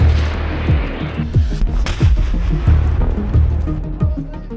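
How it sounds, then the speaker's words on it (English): Artillery fire on Ukrainian positions, heard as a dense series of deep booms and thuds, some overlapping, several close and heavy against a constant rumbling battlefield background. "Russian commanders respond with artillery fire on Ukrainian positions."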